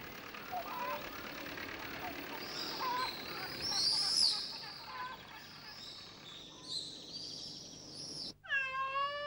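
A cat meows several times amid chirping birds on a farm, with a higher call near the middle and a clear, tonal meow at the very end.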